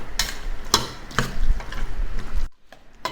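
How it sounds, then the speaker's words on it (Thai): Seasoned chicken tossed and mixed by hand with a spoonful of seasoning powder, giving repeated wet clicking and scraping strokes at close range, stopping briefly near the end. "ทีนี้เราก็มาคลุกเขาให้เข้ากันนะครับผม"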